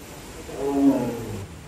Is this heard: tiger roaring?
yes